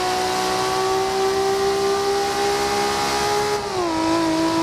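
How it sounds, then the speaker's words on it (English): A stock-tuned Nissan Skyline R34 GTR in the racing game Forza Horizon 2 holds a loud, steady, smooth engine drone that dips in pitch near the end as it eases off. "Let's jump back into the Nissan Skyline R34 GTR. Here's what it sounds like with stock tuning."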